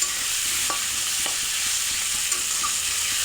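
Egg omelette frying in a pan with steady close sizzling hiss and a few light scrapes of stirring, no voices.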